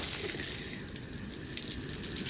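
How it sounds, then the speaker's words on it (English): Water runs steadily into the coolant passages of a small-block Chevy 383 stroker engine block being washed and prepped for assembly, a continuous close hiss and splash with no speech. "kind of fill up all the coolant holes with the water"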